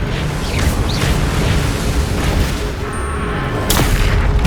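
Blasting-spell explosions from Hogwarts Legacy during frantic combat: a dense, continuous wall of low booms and crackling bursts with no pauses, plus a sharper blast near the end, loud and busy throughout.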